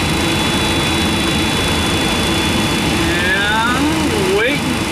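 Jet engine of an MD-10 spooling up on an air starter, a loud steady roar with rising whine tones building toward the end, people talking over the engine noise.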